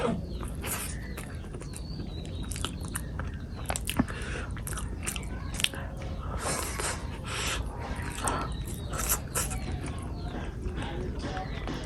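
Someone chewing and biting into hot breakfast eggs at close range, with repeated soft crunching and mouth sounds throughout, alone and without talk.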